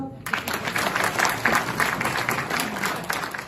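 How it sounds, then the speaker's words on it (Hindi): Audience at a training session bursts into clapping after a brief quiet start, steady dense applause filling the room, close and moderately loud. "चोरों के लिए ताली बजाओ एक बार।"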